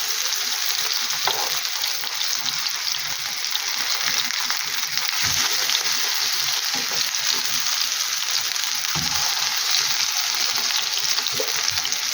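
Potato pancakes with cheese fry in a pan, giving a steady, dense sizzle with scattered pops and spatters and no talking.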